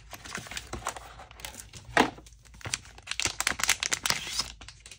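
Packaging for a new replacement screen for a Samsung Galaxy S21 Plus crinkles and tears in close, busy bursts of plastic and paper noise, with short pauses and no talking.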